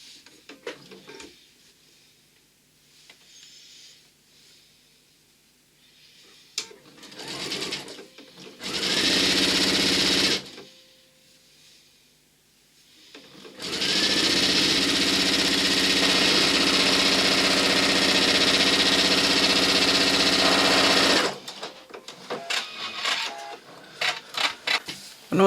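A sewing machine stitches quilt strips together for a quilt top, running in a short burst and then a long steady whir of about eight seconds, with quieter handling clicks between.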